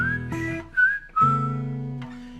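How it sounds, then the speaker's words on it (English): A person whistles a short melody alone on stage, clear sustained notes with a few bright rising slides between them. "My whistling skills."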